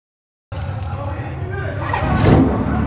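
A custom Honda CB550 Four motorcycle with aftermarket mufflers idles close by with a steady low engine burble, rising into a louder rev partway through and staying strong to the end.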